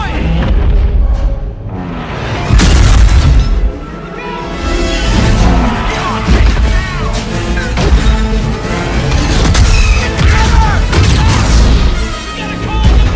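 A walker explodes under heavy fire in a Star Wars video game, with loud booms, crashes and blasts layered over a dense battle din, intense and unbroken throughout.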